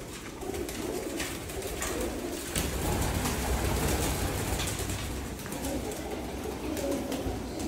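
Teddy pigeons in a breeding setup coo steadily in soft, repeated low calls, near and continuous, over a faint background hum.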